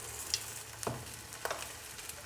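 Teriyaki tempeh sizzles steadily in a frying pan as it is flipped, a soft even hiss broken by a couple of light clinks and scrapes, quiet and without talk.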